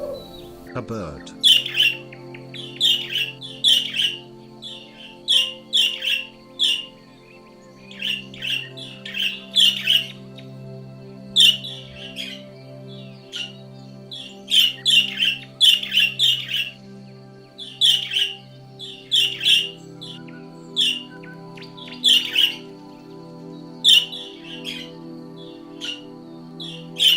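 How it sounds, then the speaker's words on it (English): A bird gives repeated sharp chirps and squawks in uneven bursts, close and clear over a steady low tonal drone. "A bird."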